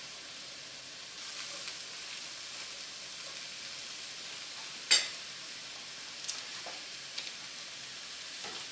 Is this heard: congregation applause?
no